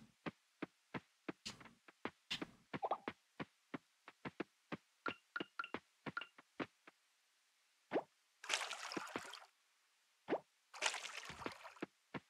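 Watering crops with a watering can in the farming game Coral Island: a series of short, crisp droplet plops and splashes in steady succession, alone, with a couple of longer bursts of sprinkling water near the end.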